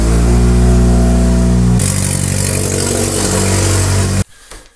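A Fiat Seicento Turbo with a freshly fitted downpipe fires up loud and close, its engine roaring and revving steadily for about four seconds before cutting off abruptly.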